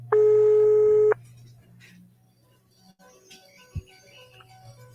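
A phone call going unanswered: one steady electronic ringing tone lasts about a second, then quiet line noise with a low hum and a brief click follows.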